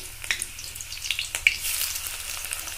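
Chopped onions drop into hot oil with cinnamon and cardamom, a bright close sizzle rising after a few soft clicks and stirring knocks, over a low steady hum.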